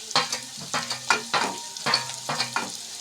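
Dry red chilies and turmeric sizzle and crackle in hot oil, with repeated bursts of frying noise as the spices are stirred, close and fairly loud with no talking.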